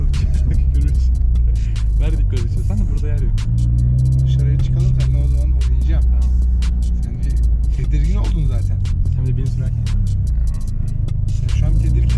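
A Ford Mustang engine gives a loud, continuous low rumble and throbbing drone that holds steady throughout. People talk over it.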